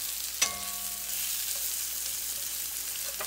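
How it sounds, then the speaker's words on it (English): Onions and garlic fry in bacon grease in a pan, sending up a close, steady sizzle that opens with a single sharp metallic clank, and no voices are present. "So I drained off all the grease except for about 3 tablespoons of it. And I just added my onions and my garlic."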